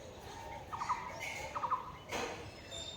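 Short squawking bird calls, including bulbuls, come in two quick bursts of three notes each, fairly close, over a soft outdoor background.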